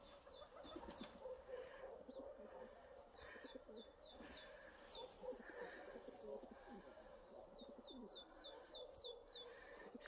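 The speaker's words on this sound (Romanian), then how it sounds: "Mă și mir că pe gerul ăsta cântă păsările." Small birds chirp and tweet in short repeated bursts on a frosty, snowy winter morning, fairly faint and distant against a steady outdoor background, with a dove cooing low underneath.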